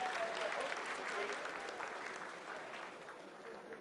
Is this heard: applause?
yes